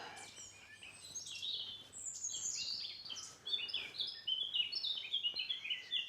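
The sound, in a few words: blackcap singing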